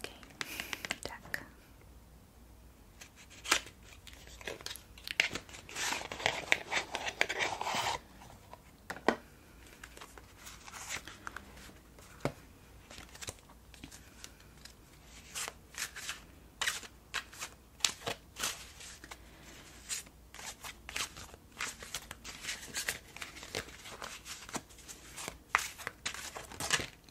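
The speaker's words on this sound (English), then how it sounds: "I'll just pull a general tarot card. This is actually like the standard looking deck." Cards from a standard-looking tarot deck shuffled and pulled in a quiet bedroom setting, with soft crisp riffles and flicks in bursts, close and faint, under intermittent whispered speech.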